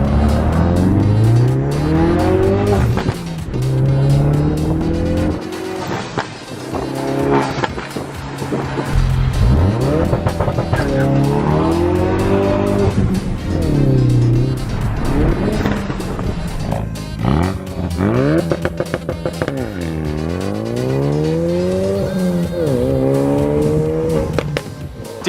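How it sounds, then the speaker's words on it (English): Ford Focus RS with its muffler chopped off, leaving a single exhaust pipe, revs repeatedly through the rev range, the loud raspy exhaust rising and falling in steady surges, close and alone. "It sounds a lot different at idle, so let's go check out what it sounds like in the RPM range."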